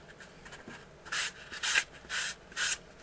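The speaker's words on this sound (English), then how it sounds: "I can play with it, sandpaper a little more." Sandpaper worked by hand on a model airplane fuselage, four close, loud back-and-forth scratchy strokes in a steady rhythm after a quieter start.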